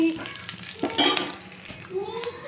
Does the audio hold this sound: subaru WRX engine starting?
no